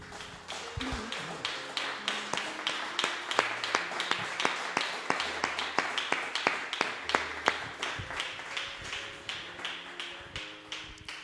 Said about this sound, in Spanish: Dale un aplauso al Señor, mi hermano.